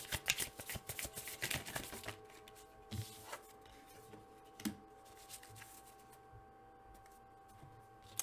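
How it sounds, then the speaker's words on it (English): Tarot cards shuffled by hand for an advice reading, a quick run of soft riffling flutters over the first two seconds, then a few isolated taps and card slaps in a quiet room. "I'm going to pull an advice card for you"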